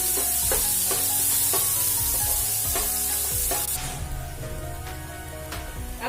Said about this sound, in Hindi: अब मैं एकदम बारीक चॉप अनियन डालूंगी।